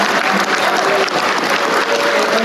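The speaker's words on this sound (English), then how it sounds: "Can we give our panelists a big round of applause?" An audience claps steadily for a panel of speakers at a policy discussion, dense and continuous applause filling the room for a couple of seconds with no voices on top.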